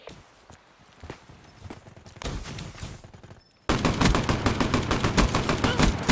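Gunfire in the Black Ops 3 beta: scattered single shots and footsteps at first, then a sudden loud, sustained burst of rapid automatic fire, close and dense.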